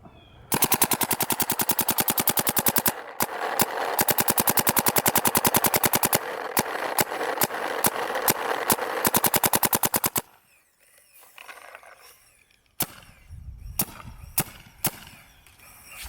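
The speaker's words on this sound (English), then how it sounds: "after shooting a decent amount of paint through Joel's gun" Paintball gun with an FL aluminum barrel tip firing rapid, evenly spaced volleys of sharp pops in two long bursts, followed by quieter scattered shots and handling sounds.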